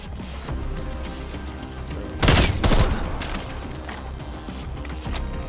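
Burst of rapid gunfire in a zombie shooter video game, a loud cluster of shots lasting under a second amid steady game background noise.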